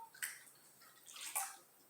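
Running water for washing hands, faint tap flow with a couple of brief splashy bursts, quiet and close, no voices.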